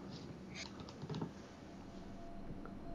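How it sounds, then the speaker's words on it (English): Keyboard keys clicking in the background while an Elden Ring game is played, a soft, faint patter of light taps under a steady hum, with a slightly louder flurry of clicks near the middle. "I love hearing the clicking in the background"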